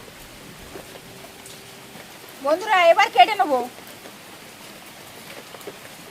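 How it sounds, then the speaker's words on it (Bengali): Steady soft rain falls outdoors on a wet day while a desi chicken is being cut for cooking, a continuous gentle hiss throughout, with one person briefly talking midway. "বৃষ্টি মাথায় সব ভিজে যাচ্ছে, মাথা টাথা সব"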